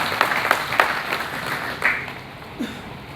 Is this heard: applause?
yes